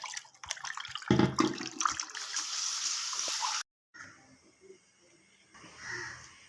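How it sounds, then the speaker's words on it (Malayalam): Water pouring and splashing as something is rinsed, loud at first, then a brief pause and quieter running water. "കുറച്ച് വെള്ളം ഒഴിച്ച് നല്ലതുപോലെ ഒന്ന് കഴുകിയെടുക്കാം"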